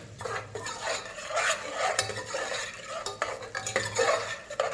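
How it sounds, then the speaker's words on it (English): Bacon frying in a soup pot and being stirred, busy scraping and clinking of a spoon against the pot over a low sizzle, close and fairly loud with no talk. "add our bacon. And we're going to stir that around just for a little bit, get a little bit more crisp to it."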